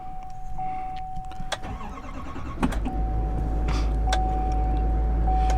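A 2022 GMC Sierra 2500 AT4 HD pickup truck starts with a brief cranking burst, then its engine settles into a steady, loud idle rumble nearby, with a chime tone and small clicks in the cab.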